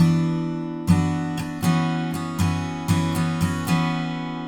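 Acoustic guitar strummed in a repeating pattern, the index finger lifting on the up strum, for a song; about eight sharp strokes ring out clearly and alone after a short silence, with no talking.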